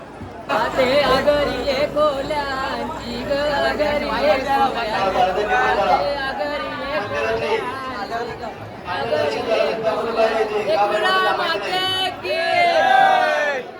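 A packed crowd at Ekvira temple fills the air with continuous overlapping chatter and calls, many voices close and loud with no single speaker standing out.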